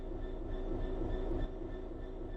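A locomotive in a train simulator rumbles along steadily, a dense low mechanical drone with faint high whine tones holding constant throughout, no voices.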